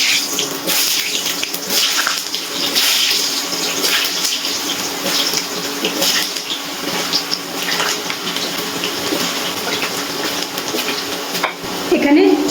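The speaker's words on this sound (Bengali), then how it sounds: "এবারে কেটে রাখা আলুগুলো আমি তেলের মধ্যে দিয়ে ভেজে নিচ্ছি।" Halved small potatoes frying in hot mustard oil sizzle loudly and continuously, with bursts of crackle and spatter and a faint clink near the end.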